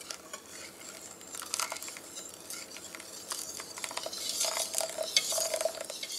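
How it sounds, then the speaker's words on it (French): A spoon scrapes and stirs hot lemon juice, poured in a thin stream, into a lemon cupcake filling mixture in steady, soft strokes, with faint wet sizzling and clinking that grow slightly louder toward the end. "on va verser en filet le jus de citron bien chaud,"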